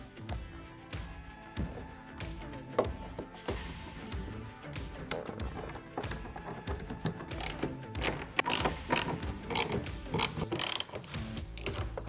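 A hand ratchet clicks rapidly as it tightens the bolts of a bed rail for a WeatherTech AlloyCover hard folding tonneau on a RAM 1500 pickup. The close, busy clicking comes in uneven spurts.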